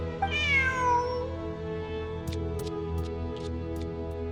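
A cat meows in the video game Genshin Impact, a single drawn-out rising and falling call up close, then quieter ambient game sounds with soft ticking chimes.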